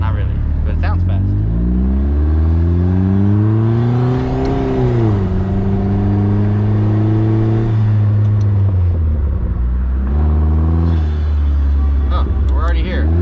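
A Vanderhall car accelerates hard with a loud engine note rising through the gears, pitch climbing, dropping at each shift and climbing again, heard from up close with a constant rush of wind.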